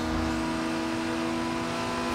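A car engine drones and revs steadily in the Forza Horizon 2 racing video game, with an off-road Nissan Skyline, a continuous tonal whine with no voices over it.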